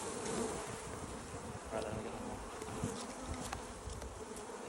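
Dense, steady buzzing of an Africanised honey bee colony nested in a chimney, a close and continuous swarm drone with occasional louder passes of individual bees and no voices.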